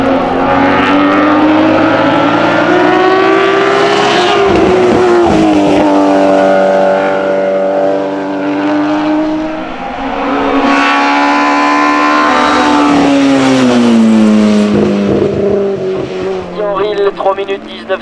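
A Porsche 911 SC race car at the Chamrousse historic hill climb, its engine screaming loud and close through rising revs and gear shifts, with a commentator talking over it.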